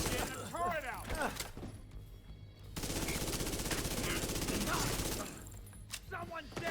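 Rapid automatic gunfire from a deployed turret in the video game The Division 2 rattles in a sustained burst, preceded and followed by game voice lines and shorter shots amid combat effects.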